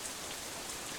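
Heavy rain in the visual novel game Katawa Shoujo, a dense, steady hiss of falling water that stays loud and even throughout the short moment.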